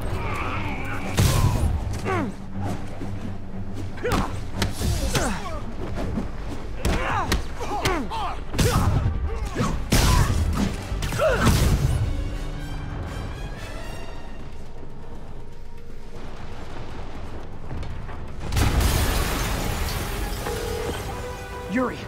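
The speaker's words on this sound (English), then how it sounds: "an explosion just... I saw it." Explosions and heavy thuds burst repeatedly in the Spider-Man PS4 video game, loud booming impacts and debris crashes spread across the scene amid game effects, with a final big blast near the end.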